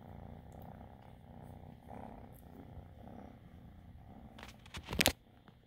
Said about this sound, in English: She purrs.